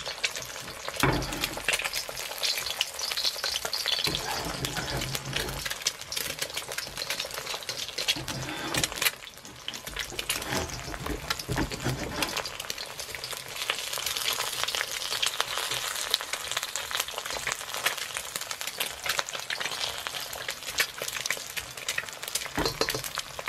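Fried egg for Pad Krapow cooking in a hot pan, a loud continuous hiss and sizzle with bubbling crackle that briefly dips and returns, close and steady.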